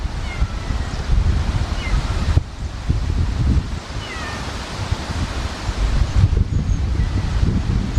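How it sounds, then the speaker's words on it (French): Strong wind gusting through a garden on a small farm during sowing, rustling foliage and buffeting the microphone in loud, uneven surges, with faint bird calls in the background. "Il y a beaucoup de vent, ça m'aide à semer."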